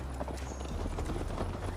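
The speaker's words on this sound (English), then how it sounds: "Mount up, Eivor. It's a long ride to Tamworth" Horse hooves clip-clop at a steady trotting rhythm in the Assassin's Creed Valhalla video game, close and fairly loud over a low rumbling background.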